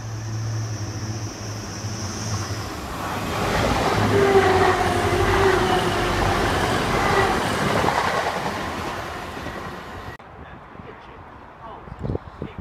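A Class 321 electric train on the East Coast line at Stevenage passes in the rain, its horn sounding near the start as the rumble and clatter of wheels builds, peaks and fades, ending abruptly.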